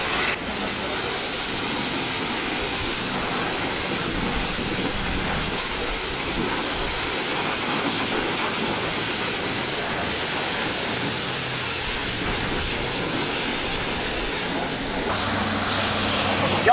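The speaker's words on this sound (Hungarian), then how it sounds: "a forró viasz." Hot wax sprays over a motorcycle in an automatic car wash: a loud, even hiss of spraying that runs unbroken from start to finish, with a slight change in tone near the end.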